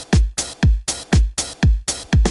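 Dry, unprocessed snare drum sample hit repeatedly, about ten sharp strikes in a steady alternating pattern, each with a crisp attack, a short low-end thump and a quick decay, heard alone without any voices.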